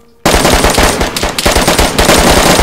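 Rapid automatic gunfire in the survival video game DayZ, a loud, continuous burst of closely spaced shots that starts abruptly and runs without pause.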